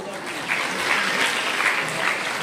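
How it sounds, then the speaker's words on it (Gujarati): Audience applause for a guest at a school annual function in Kalol, sustained steady clapping from a sizable crowd throughout. "તેમના માટે જોરદાર તાળીઓ"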